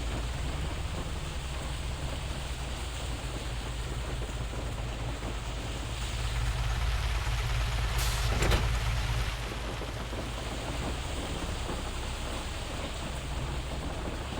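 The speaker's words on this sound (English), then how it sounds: "Man, this is quite a heavy hail." Heavy hail pelts down on a farm as a dense, constant hiss and patter, rising briefly for a few seconds partway through and then settling back to a steady roar.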